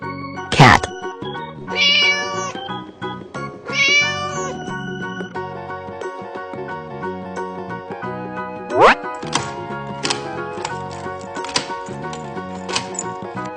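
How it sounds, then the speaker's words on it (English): Cat meowing in a children's animal-naming sequence, with several clear meows and cat cries spread across the clip over a busy musical backing. "Cat."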